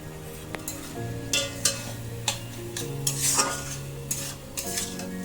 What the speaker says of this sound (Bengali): আমি আরো একবার নাড়াচাড়া করে দিচ্ছি।